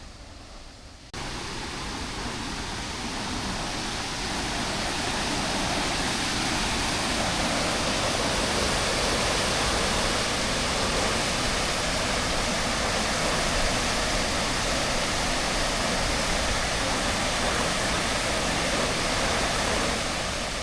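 A small waterfall pours into a clear river along a walking path, a continuous even rushing roar that swells in after a quieter first second and holds steady throughout.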